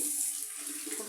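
Tap water running steadily into a sink during face washing, a constant close hiss of flowing water over one brief moment, with no voices.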